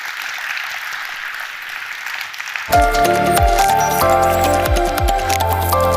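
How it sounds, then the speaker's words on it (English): Audience applauds at an urban transport forum event on healthier cities: a steady, broad wash of clapping for about two and a half seconds, then loud music with a pulsing beat cuts in and takes over. "A round of applause, please."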